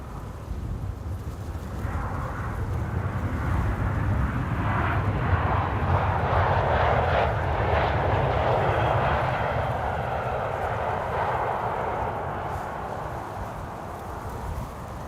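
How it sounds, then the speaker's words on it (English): An Emirates Airbus A380 arriving at Amsterdam Schiphol from Dubai makes a deep, broad engine roar that swells to a peak midway and then fades slowly. "Here's the A380, the flying bathtub. Emirates Flight 147 arriving from Dubai."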